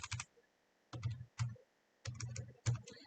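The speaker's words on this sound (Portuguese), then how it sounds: "E vou digitar um outro." Bursts of typing on a computer keyboard while entering a product into a sales-order system, short clusters of clicky keystrokes separated by pauses, fairly close and alone without talk.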